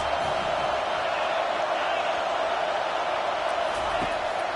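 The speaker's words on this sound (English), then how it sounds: "this crowd is making it miserable on this offense" Stadium crowd noise in the college football video game NCAA 25 fills the clip as a dense, steady roar that stays loud throughout and never lets up.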